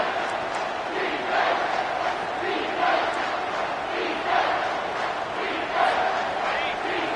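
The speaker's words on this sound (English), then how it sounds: "Big 3rd down as the crowd gets behind this defense." Stadium crowd roar in an NCAA college football video game, a dense continuous wash of cheering with gentle swells, loud and steady around a third-down play.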